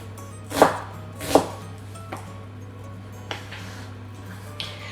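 A knife chops through a large onion for a tagine, with two crisp, fairly loud cuts followed by a few fainter taps against a board, all over a steady low hum.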